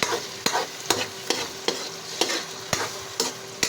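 Tortang sardinas sizzles in a pan while a spatula stirs and scrapes it in regular strokes, about one sharp scrape every half second over a steady soft fry, fairly close and with no talking.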